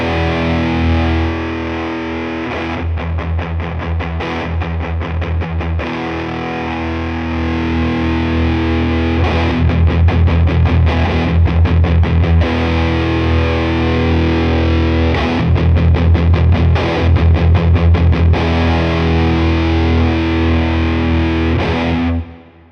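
A distorted electric guitar played through a Mythos Pedals Positron fuzz pedal while its bass knob is adjusted, sustained chords alternating with busy strummed passages, loud and close, no voices.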